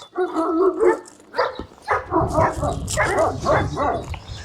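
A one-year-old Kangal dog on a breeding farm barks in short bursts mixed with high whimpers and yips, close and fairly loud, with brief gaps between the sounds.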